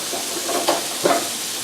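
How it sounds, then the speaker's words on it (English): Tuna and pork chops searing in a hot pan give a steady, close sizzle, with two short bursts of louder crackle as the meat is moved. "So we're going to let that sizzle for a second."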